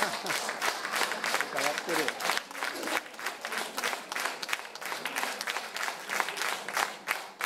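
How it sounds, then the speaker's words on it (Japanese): Encore applause from a small audience at a lecture-concert on Andean folklore music, distinct individual claps at a quick uneven rhythm, fairly faint, with some voices underneath. "拍手いただいてとても嬉しいです"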